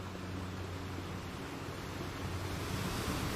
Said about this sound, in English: hearing the waves lap against the ship